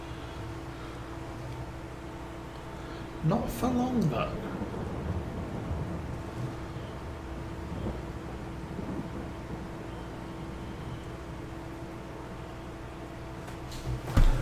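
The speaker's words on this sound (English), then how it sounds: "And here comes the rain." Rain falls on a farm in the Farming Simulator 22 video game as a soft, steady wash of noise. Someone talks over it, and a few brief thuds and clicks break through.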